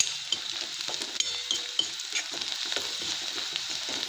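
Onion fries in oil with red chili powder and turmeric, giving a steady moderate sizzle broken by frequent scraping strokes of a spoon stirring the pan.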